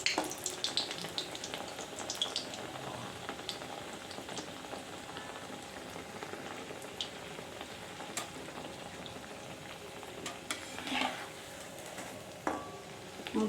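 Egg pieces dropped into hot oil in a small kadai, giving a steady soft crackle of frying with scattered pops and occasional louder bursts, fairly quiet and with no talking.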